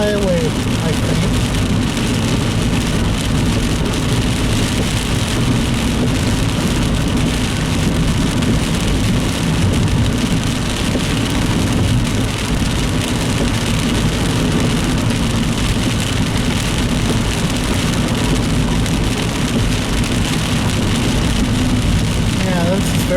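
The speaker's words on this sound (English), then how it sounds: "It's rain." Steady rain falling on a surface, heard close and continuous for the whole stretch, with a low rumble underneath that suggests a vehicle, near a highway in Missouri.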